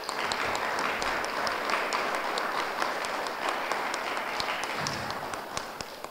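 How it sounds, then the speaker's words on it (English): Steady, dense audience applause for the president of the Braintree Historical Society at a history talk, fairly distant and even, running unbroken for about six seconds. "A round of applause for President Bob and the Braintree Historical Society"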